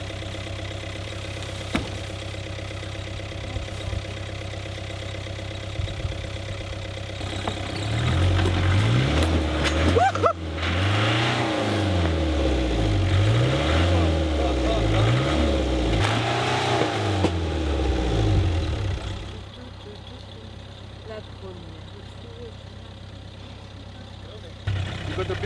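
A car being pulled along by a rope, its engine idling and then revving in rising and falling surges through the middle, loud and close, before settling back to a low steady hum.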